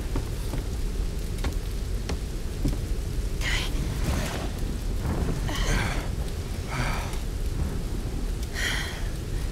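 Steady rain falls throughout a Tomb Raider video game scene, with low rumbling thunder underneath and several brief brighter splashes or gusts rising out of the wash; loud, continuous, no talking.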